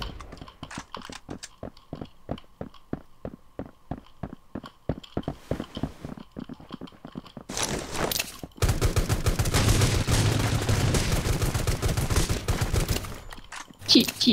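Gunfire in the mobile shooter Rules of Survival, starting as a string of sharp single shots in quick rhythm, then breaking into a dense, loud sustained burst of rapid fire that runs several seconds before a last few cracks.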